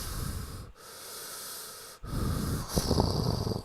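A voice imitates eerie breathing with drawn-out, hissing inhales and exhales, three breaths separated by brief pauses, close and fairly soft.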